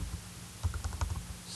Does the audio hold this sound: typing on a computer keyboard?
yes